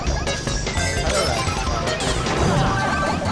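Shell smashing into a kart in Mario Kart Wii online battle, a dense loud crash and clatter lasting a few seconds over ongoing game noise.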